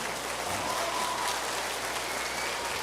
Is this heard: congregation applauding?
yes